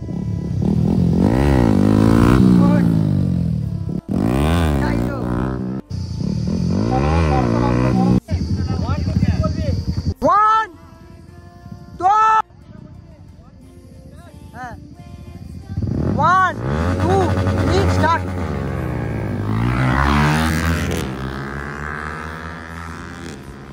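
Duke 200, R15 and MT15 motorcycles drag race, engines revving hard and rising in pitch through the gears in repeated bursts, some passes near and loud, others fading, with people talking and shouting between runs.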